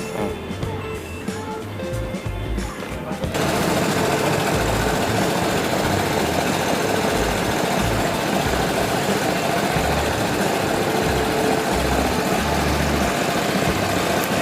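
A Vespa Primavera 150 automatic scooter with a replaced stator runs steadily, its engine noise loud and continuous, picking up sharply as the throttle opens a few seconds in and holding a dense, even roar afterward.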